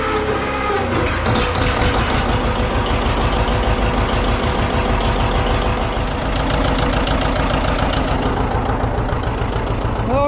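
A boom truck's engine idles while warming up, a loud, steady, close rumble with an even low-pitched throb that holds unchanged for the whole stretch, with no talking.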